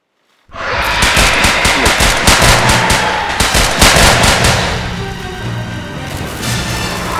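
Rapid automatic gunfire from a dinosaur movie erupts after a brief silence, a loud, dense stream of sharp repeated shots that rattles steadily for several seconds before easing into a lower, echoing tail.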